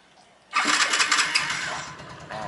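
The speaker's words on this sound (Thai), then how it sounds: "กดลองเลยมาสตาร์ทที่รีโมทให้ดูนะครับ" A Yamaha Spark 135-i motorcycle engine, fitted with a waterproof anti-theft alarm box, is started by remote: a brief quiet lead-in, then the engine catches abruptly and runs loud and steady close by, with a slight rise near the end.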